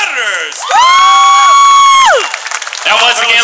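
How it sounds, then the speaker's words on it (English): A crowd at a cockroach eating contest cheers and whoops for the competitors, with loud shouting voices and clapping swelling, dipping briefly, then surging again. "how about a big round of applause for all three of our competitors?"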